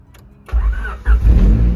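A Honda Integra Type R engine cranks and fires after a push-to-start button press, with a short starter whirr that catches into a loud, rough idle at close range.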